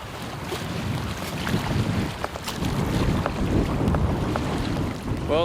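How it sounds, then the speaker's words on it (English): Steady wind gusts across a lake island, a broad rushing roar with faint water lapping beneath, continuous and fairly loud with no talk. "Well, the wind kept up"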